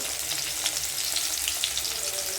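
Onion and dried red chilli fry in hot oil in a pan with a steady, dense sizzle and light crackles, heard close and continuous without speech.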